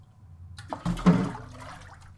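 Water is poured in a dark fae's forest cave during a fantasy roleplay, a short gushing splash rising and then trailing off quietly, close and intimate with no talk over it.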